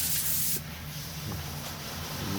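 An engine parts washer sprays hot water at about 50 degrees while cleaning parts during an All New Tucson engine rebuild. A loud, close spraying hiss opens the sound, then it drops to a steadier, softer hiss that continues to the end.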